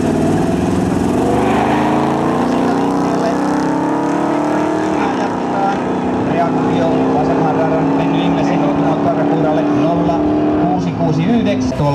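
Street race cars including a Chevrolet Corvette idling and revving loudly at the start line of a street race, engines droning with rising and falling pitch under a commentator's voice.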